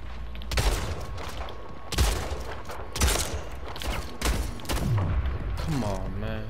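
Bursts of rapid gunfire in the Splitgate arena shooter, several loud volleys a second or so apart under steady game noise, ending with a faint warbling tone.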